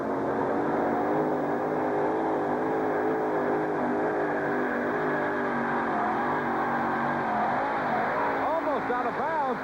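The Temporary Insanity monster truck revs loudly and steadily on an arena track at a 1991 USHRA Uniondale event, its engine note wavering and rising near the end, with an announcer talking over it.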